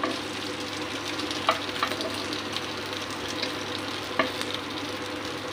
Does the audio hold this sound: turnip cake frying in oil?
yes